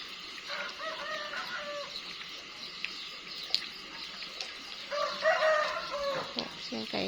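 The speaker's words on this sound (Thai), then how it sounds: "เสียงไก่ขันนี่ก็เวลา" A rooster crows twice at dawn, around half past five, on a cool, rainy morning at a rural Thai home. The crows are clear but moderately distant, with other fowl clucking and a steady wet background.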